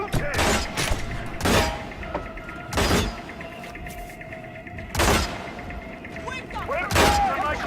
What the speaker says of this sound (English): Come on, shoot him!